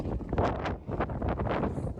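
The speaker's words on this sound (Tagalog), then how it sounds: "Kasi malakas yung hangin" Strong mountain wind in the European mountains gusts and buffets the microphone in a steady, loud roar, with rustling bursts rising and falling throughout.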